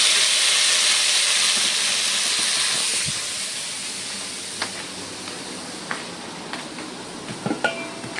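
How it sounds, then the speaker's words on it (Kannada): Drumstick leaves frying in a pan for an egg stir-fry, a steady broadband sizzle that is loud at first and eases after a few seconds, with sharp little pops and spatters scattered through the later part. "ನೋಡಿ ಇವಾಗ ಸ್ವಲ್ಪ ಫ್ರೈ ಆಯ್ತಲ್ಲ, ಸ್ವಲ್ಪ ಒಂದು ಅರ್ಧ ಫ್ರೈ ಆದರೆ ಸಾಕು"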